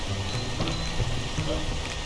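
Steady rain in the video game PEAK, a dense, even hiss of falling drops that stays continuous and fairly close throughout, with a low rumble beneath and faint voices in the background.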